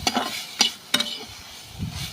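A wild leafy vegetable, salted and stir-fried in a pan, makes a soft sizzle broken by a few sharp scraping strokes of the spatula, close by and fairly quiet.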